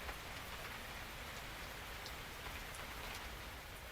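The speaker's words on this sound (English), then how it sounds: "Listen to the rain." Steady rain falls outside, a dense continuous patter on surfaces heard alone at close range with no voices.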